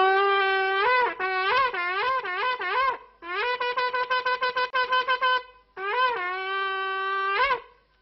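Sephardic half-natural shofar blown in several long, loud, bright blasts, some with wavering bends and one passage of rapid broken staccato notes, heard close and alone with brief pauses between.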